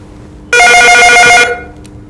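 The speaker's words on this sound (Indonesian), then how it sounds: "Ini tampaknya ada telepon." A telephone rings once in a loud, close, continuous trill lasting about a second in a studio setting, then stops, with no talk over it.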